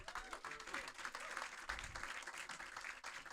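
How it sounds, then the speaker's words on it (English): An audience at a film preview in a playhouse gives a sustained round of applause, a continuous wash of many hands clapping, heard from some distance and fairly soft. "So, round of applause for Tony and all of his friends."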